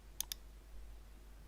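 A computer mouse gives two quick, light clicks in rapid succession, close and crisp, over a faint steady hum with no talking.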